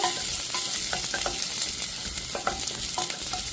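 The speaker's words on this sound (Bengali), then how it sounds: "অল্প পরিমাণ তেল অলিভ অয়েল তারপরে দিয়ে দিব অল্প কুচি করা রসুন দেখতে থাকুন নেড়ে চেড়ে অল্প কষিয়ে নিব" Chopped garlic sizzles in olive oil, a loud continuous crackling hiss with light scraping from steady stirring, heard close with nobody speaking.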